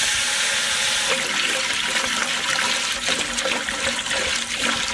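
Water poured into a pot of fish biryani with spices and green chili, a steady close splashing rush of liquid running continuously without talk.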